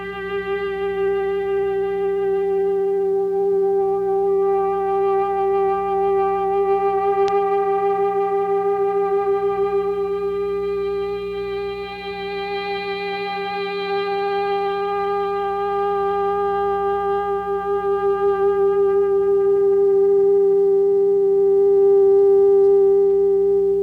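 A blended sequence of electronic tones holds steady as a sustained, harmonically rich drone that slowly shifts in color, ending on a pure, flat and hollow middle G with no overtones, loud and alone.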